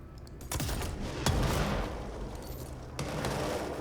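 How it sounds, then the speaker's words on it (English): A power blast in the video game Control bursts outward in a loud explosion, then draws back in on itself as an implosion, with sharp booming hits over a dense rumbling wash. "I love the effect of that, the way it does like an explosion and then like an implosion"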